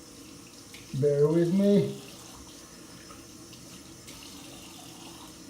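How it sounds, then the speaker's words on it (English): Tap water runs briefly as a razor is rinsed during a head shave, a short splashing stream of about a second before a quieter background, with a person speaking briefly. "just gonna rinse this off real quick"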